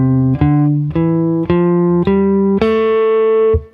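A guitar plays a slow ascending A natural minor scale run of single plucked notes, about six evenly spaced tones ringing clearly, alone with no voices.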